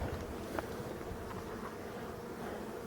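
Young honeybees make orientation flights in front of a hive, a steady close buzzing hum of many wings that holds level throughout with no talking.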